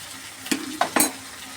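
Spices with kasuri methi sizzle and fry in a pan, with a few sharp scraping stirs and a quick splash as a little water goes in, close and fairly quiet.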